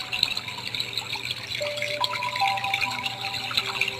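Mountain river water flowing steadily in a continuous rushing wash, with a few faint high tonal calls over it.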